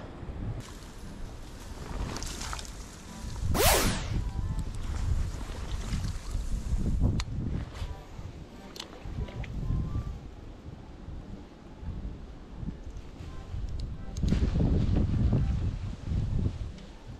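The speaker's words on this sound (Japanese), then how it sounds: "風がうざいですね" Wind gusts buffet the microphone outdoors on a cold fishing day in Hokkaido, a steady low rumble with stronger swells near the start and end, and a brief sharp sweep near four seconds.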